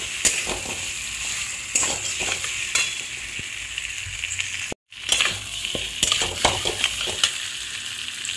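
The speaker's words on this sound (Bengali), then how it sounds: "এটাকেও ফুলকপির সাথে ভালো করে কষিয়ে নিতে হবে" Koi fish and cauliflower being stir-fried in a pan, a steady sizzle and frying hiss with repeated scraping and knocking of a stirring utensil, close up, with one brief dropout midway.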